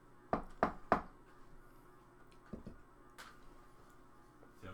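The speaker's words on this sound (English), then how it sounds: "I'm gonna knock again." Three quick, sharp knocks on a door land close together near the start, followed by a quieter thump or two, in an otherwise quiet room.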